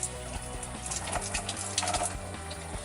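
A shower runs steadily inside a camper van, water spraying and splashing continuously at close range with no voices.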